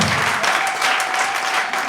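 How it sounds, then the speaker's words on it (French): Steady, dense applause from an audience at an association ceremony, a members' card presentation, filling the whole moment at close range without pause. "vos acclamations"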